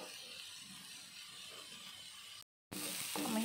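Chopped beans stirred in a pan for a paneer vegetable soup, giving a soft, steady sizzle and hiss close by, broken by a brief cut before the sizzle resumes a little louder.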